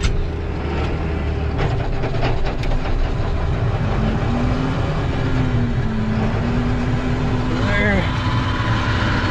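A hay grinder's engine runs steadily with a loud mechanical drone and clattering rattles, a voice talking over it throughout.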